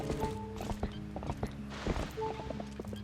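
Horse hooves in The Legend of Zelda: Twilight Princess clip-clop at a steady trotting rhythm, close and clear, over a low hum and faint background music tones.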